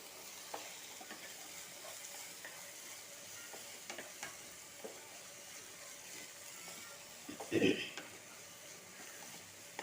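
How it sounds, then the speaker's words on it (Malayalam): Sago biryani mixture with tomatoes and salt being sautéed in a pan gives a low, steady sizzle with scattered scraping stirs, then a short louder clatter near the end. "കുറച്ച് ഉപ്പിടുക നന്നായി ഒന്ന് നന്നായി ഒന്ന് വഴറ്റിയെടുക്കുക"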